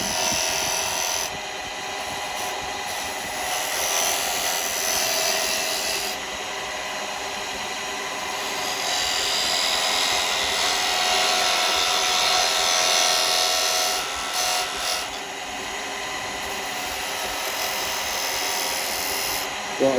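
A woodturning tool cuts spalted beech on a lathe, giving a steady broadband shaving hiss over a low spinning rumble that holds at even loudness for the whole stretch.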